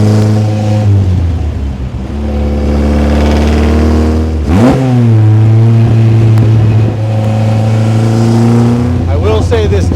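A 1955 Austin-Healey 100S tribute engine drives loud and close, with steady harmonic drone, a sharp rev swoop midway and gear changes. Speech-like tags suggest talk may sit underneath.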